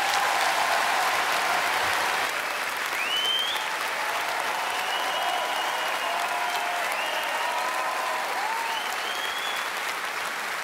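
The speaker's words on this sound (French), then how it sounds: "Merci d'applaudir Monsieur Olivier Debenoît." A festival comedy audience in Liège applauds comedian Olivier de Benoist as he takes the stage, a sustained, even roar of many hands clapping, with a few whistles rising over the crowd.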